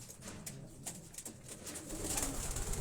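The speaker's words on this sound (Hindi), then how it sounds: "ये मेरे सारे ब्रीडर कबूतर हैं।" Breeder racing pigeons cooing inside a loft in Quetta, a soft, continuous murmur of low coos from several birds, close by, with faint rustling and no talk.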